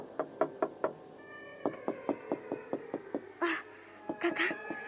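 Steady, repeated knocking on the door of a house, more than a dozen evenly spaced raps, with a couple of cat-like wails breaking in near the end.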